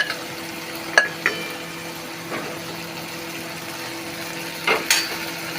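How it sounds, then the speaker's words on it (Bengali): Eggs sizzle softly in a pan as they are stirred for a tarka dal dish, a low steady frying hiss broken by a few sharp scrapes and knocks of the spoon against the pan. "এবার আমি এর মধ্যে এই ডিমগুলো দিয়ে দেব, দিয়ে এটাকে ভালো করে একটু নেড়ে চেড়ে"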